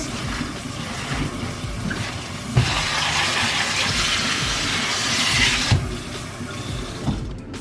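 Tap water runs steadily over collard greens being rinsed in a kitchen sink, a close, continuous gushing splash with a few brief shifts as the leaves are moved under the stream.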